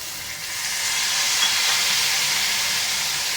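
Vegetables fry in a hot pan: hyacinth beans, peas, carrots and peanuts for a Maharashtrian Bhogi mixed-vegetable dish. A steady bright sizzle and hiss builds and holds close up, with no voices.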